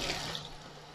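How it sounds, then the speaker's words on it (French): Tap water runs steadily from a faucet, a close, continuous rushing hiss that lasts about a second, with no voices. "Pour l'eau, je vais simplement prendre de l'eau de mon robinet."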